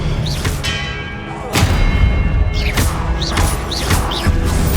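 Confringo explosive spells going off during combat in Hogwarts Legacy: a series of heavy, booming blasts in irregular succession, each with a ringing, crashing tail, loud and close.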